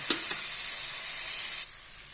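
Tomato being sautéed in a pan with cooked-down spices, stirred with a spoon: a steady, fairly loud sizzle with a couple of brief scraping strokes, easing slightly softer near the end.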